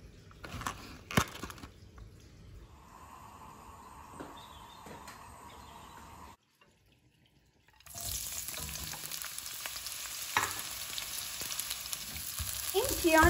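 Onions fry slowly over low heat for a cheese and onion pastry, with a soft sizzle and a few stirring clicks. After a brief silent gap, a louder, steady frying hiss fills the rest of the clip.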